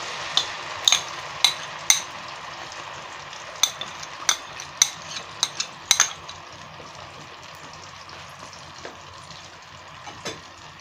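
Onion paste frying in a pan while making Bengali chicken kofta, a steady soft sizzle underneath with scattered sharp clinks of a utensil against the pan, busier early and thinning out toward the end, no talking.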